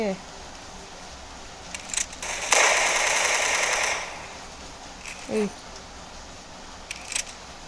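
Bursts of Tommy gun fire from the Roblox game Arsenal, a loud sustained rattle in the middle with shorter scattered shots around it, while a voice talks over the game audio.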